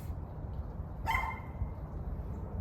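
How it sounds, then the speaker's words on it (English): A single distant dog bark sounds once over a steady low background rumble. "he always barks at him for no reason"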